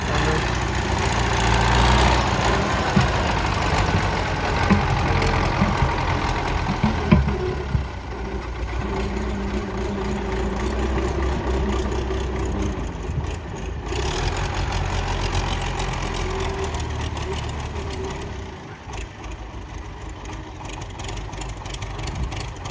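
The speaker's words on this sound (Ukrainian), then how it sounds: "колеги, трактор в строю, Андрюха в строю, працюємо" A tractor engine runs steadily nearby, a continuous low rumble with slight shifts in intensity and no talking.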